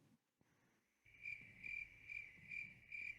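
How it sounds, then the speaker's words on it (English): A cricket sound effect plays a steady series of bright, evenly spaced chirp pulses, about one every half second, loud and clear over a low background hum with no one talking. "Put some crickets in there."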